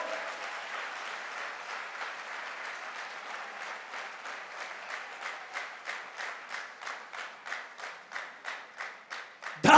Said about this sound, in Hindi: तालियां घनघोर